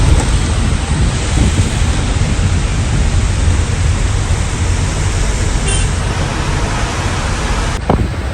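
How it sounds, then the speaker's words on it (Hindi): Heavy rain pours down in a dense, constant hiss, loud and unbroken throughout, with a faint low rumble beneath. "तो काफ़ी तेज बारिश होने लगी है।"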